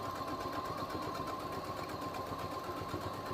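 A sewing machine runs continuously at close range as it back stitches through denim from repurposed jeans, a rapid, even mechanical chatter that stays quiet and steady throughout.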